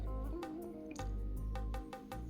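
Beef korma in coconut milk gravy being stirred in a pot: soft wet squishes and light spoon taps against the pan, close and quiet, with no talking.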